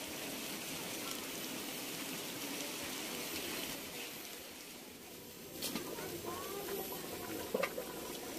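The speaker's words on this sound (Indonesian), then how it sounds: "Hujan datang Sobat." Heavy rain pours steadily around a rice field hut in the countryside, a dense continuous hiss with a few louder drips and knocks near the end.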